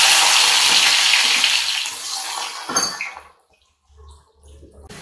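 Sliced onions go into hot oil in a pan on a medium-low gas flame, giving a loud, bright sizzle that fades over a few seconds into near quiet with faint low bubbling.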